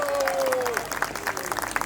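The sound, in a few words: wedding guests applauding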